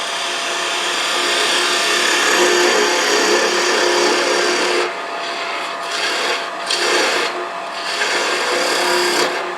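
A spindle gouge shaves scrap wood spinning on a lathe while a bird shape is being turned, giving a close, continuous rasping hiss that breaks into short separate cuts partway through.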